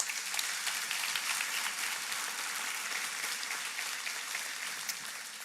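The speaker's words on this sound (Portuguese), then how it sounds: "Você pode aplaudir o nosso Deus?" A church congregation applauds God in a steady, dense wash of clapping that holds at even strength throughout, without voices on top.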